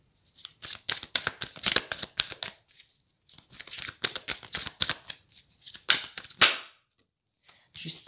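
Tarot cards shuffled and drawn by hand, a rapid run of crisp riffling snaps and slaps in two bursts, then a few separate card flicks, close and fairly loud with no voice over them.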